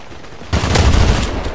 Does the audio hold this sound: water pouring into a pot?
no